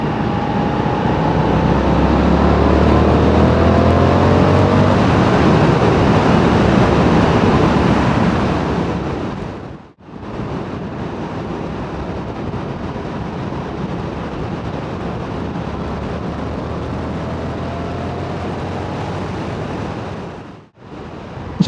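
A 2023 Indian FTR1200 motorcycle runs at motorway speed, about 70 mph. Loud, constant wind roar and road rumble bury most of the engine note, with a brief dip near the middle and another near the end.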